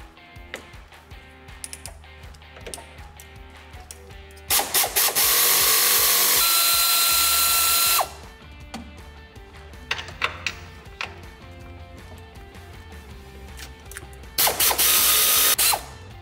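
Ratchet wrench loosening shock absorber mount nuts on a 2007-2018 Chevy during a shock replacement, with repeated fast clicking runs and louder, sustained bursts of ratcheting, close up and with no talking.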